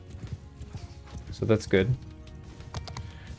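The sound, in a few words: horse galloping, from a video game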